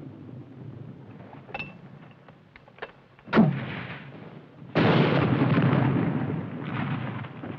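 Battle gunfire from a 1953 film soundtrack, with a sharp loud burst midway followed by a sustained roar of rapid machine-gun fire, preceded by scattered fainter shots and rumble.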